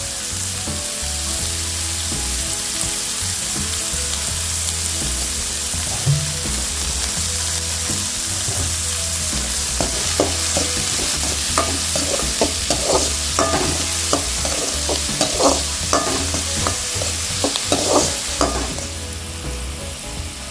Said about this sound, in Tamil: வெங்காயம் கொஞ்சம் வதங்கிருச்சு